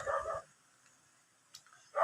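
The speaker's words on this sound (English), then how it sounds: "can these dogs just shut up? I am dying from these dogs." Dogs bark in a short, loud cluster at the start, with a fainter yelp later and a louder bark at the end, sounding nearby in an otherwise quiet room.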